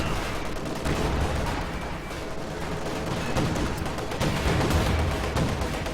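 Continuous battlefield gunfire from a Company of Heroes 2 battle, dense crackling rifle and machine-gun bursts with booming impacts layered in a constant loud wash, no pauses.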